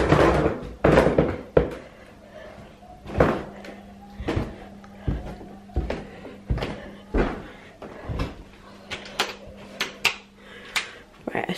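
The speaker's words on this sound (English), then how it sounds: "Guys, stairs are so creaky." Creaky wooden stairs in a Cornwall holiday cottage being walked on, a steady run of thudding footfalls with a drawn-out wooden creak under several steps, close and fairly loud.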